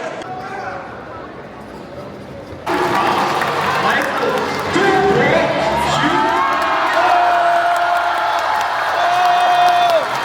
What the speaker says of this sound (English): The Chinese are really passionate when they cheer and spectate for the Chinese.